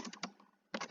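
Computer keyboard keys tapped while entering an SQL query, a quick cluster of clicks, a brief pause with a faint tap, then another burst of keystrokes, close and moderately quiet.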